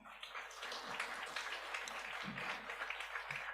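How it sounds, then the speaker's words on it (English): An audience at a regional customs authority awareness session applauds steadily, a dense wash of clapping that holds at a moderate level throughout without voices over it. "Let's give him a round of applause."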